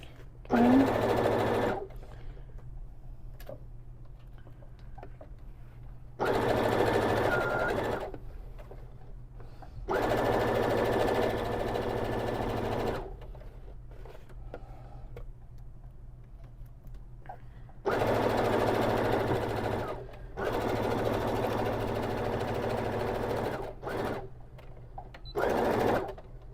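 A sewing machine stitches a tote bag seam in several bursts of steady whirring separated by pauses, close and clear.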